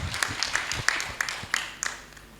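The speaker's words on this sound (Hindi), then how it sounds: "एक जोरदार तालियां चंद्रशेखर सर के लिए" Scattered claps from a small audience honoring Chandrashekhar sir, a handful of distinct sharp hand claps spread unevenly over a couple of seconds, fairly faint and thinning toward the end.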